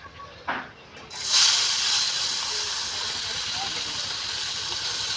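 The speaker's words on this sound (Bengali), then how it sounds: "তেল দেখো গরম হয়ে গেছে। ওই যে পুঁটি মাছ কটা কড়কড়ে করে ভাজবে।" Small puti fish fry until crisp in hot oil over a cooking fire, a loud, steady close hiss and sizzle that swells suddenly after a faint start and then holds constant.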